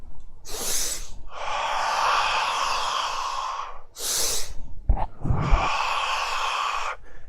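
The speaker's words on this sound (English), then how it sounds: "when you are breathing in, you're going to be quicker than when you're breathing out" A person demonstrates fast breathing, with quick sharp in-breaths followed by longer hissing exhalations, loud and close to the microphone in an uneven rhythm with no talking.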